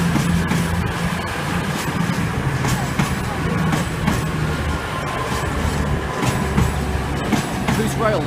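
A five-car Meridian diesel passenger train bound for London St Pancras rolls past, a steady loud rumble with rail clatter and sharp clicks throughout.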